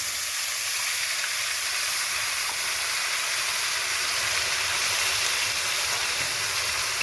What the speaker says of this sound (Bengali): এবার আমি দিয়ে দেবো আদা রসুন লঙ্কা আর পেঁয়াজ বাটা 3 চামচ